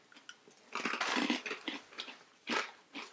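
Someone crunches on small crunchy cheddar cheese bites, a keto snack, with crisp bursts of chewing close to the mic, a longer crackling stretch, then a few separate bites.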